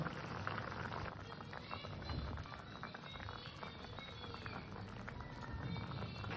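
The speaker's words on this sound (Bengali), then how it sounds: "মাছগুলো দিয়ে আমি আবার ভালো করে ফুটিয়ে নেব" A thin Bengali fish curry of local magur catfish with potato and green banana simmers in a pot, giving a steady, soft bubbling and crackling at low volume.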